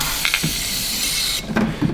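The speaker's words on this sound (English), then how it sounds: "Ooh, I felt that spray up there on my fingers." An aerosol can sprays in a steady hiss for over a second, with short bursts before and after.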